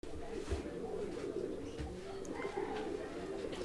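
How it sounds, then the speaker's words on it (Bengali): A male pigeon of a fancy breed with muffed feet coos in soft, low repeated calls, faint against a murky background hum. "এই মুহূর্তে যে কবুতরটির ডাক একদম অসাধারণ ডাকের একটা নর"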